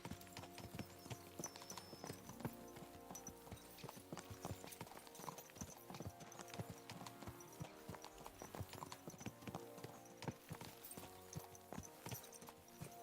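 Horse hooves clip-clop steadily in a video game, a brisk run of near, distinct hoof strikes repeating across the whole stretch at low overall volume, with no talking over them.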